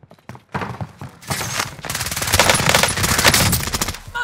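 Automatic gunfire in the video game Call of Duty: Warzone, a few sharp shots then sustained rapid bursts building in intensity, loud and close, with no talk.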